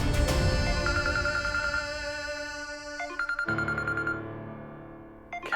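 A mobile phone rings with an incoming call from Gehna, a bright electronic melody of sustained tones that shift pitch in steps, loud and close, with a brief pause before the tune restarts.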